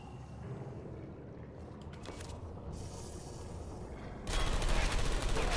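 Enemy gunfire in Portal 2: rapid bursts of shots crackle over a dense background rumble, turning sharply louder and harsher near the end.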